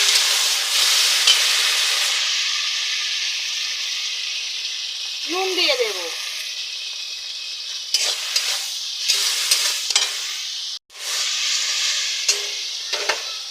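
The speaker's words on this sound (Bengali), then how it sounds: "টমেটো পেঁয়াজটা ভাজা হয়ে গেছে।" Tomato and onion sizzle loudly in a pan, with intermittent scraping stirs near the end, while a person speaks briefly over the frying.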